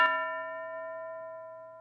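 A single bell struck for a classroom game rings out once near and clear, its bright metallic tone holding steady and slowly fading over a couple of seconds with nothing else heard.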